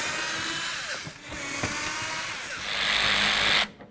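A power tool whirs in short, loud bursts, removing Phillips and 10 mm bumper screws on a 2008-16 Chrysler Town & Country van, rising to a sustained higher whine near the end before cutting off abruptly.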